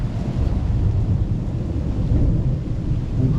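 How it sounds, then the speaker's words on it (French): Distant thunder rumbles through a storm over Liège, Belgium, a steady low roar with wind and rain noise filling the background, no talking. "Joli le tonnerre au loin."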